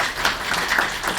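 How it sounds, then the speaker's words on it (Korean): An audience at a forum on sharing and senior citizenship claps in thanks, a steady patter of many hands, moderately loud with no voices. "다시 한번 우리 박기석 울산 북구 노인복지관장님께 감사 박수 드리겠습니다"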